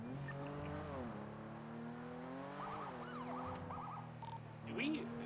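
A vehicle siren in the video game NoPixel 4.0 wails and warbles over a steady engine drone, its pitch sweeping up and down in quick cycles, loud and synthetic-sounding.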